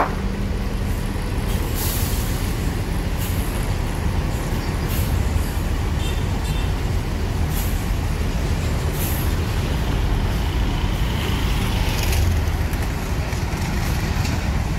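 A large diesel bus idles and pulls away with a steady low engine rumble, punctuated by several sharp hisses of air brakes releasing.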